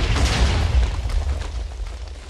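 Minecraft TNT explosions, a dense rumbling blast of overlapping booms that fills the whole moment, loud and close, then slowly fades.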